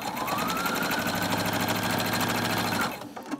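A sewing machine runs steadily stitching fabric for a Cricut Maker dust cover, a dense continuous motor whir with rapid needle chatter for nearly three seconds before it stops abruptly.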